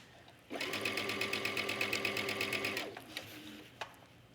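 A sewing machine stitches trench coat raincoat fabric in a steady, rapid run of needle strokes lasting a couple of seconds, close and clear, then stops, leaving only a few light handling clicks.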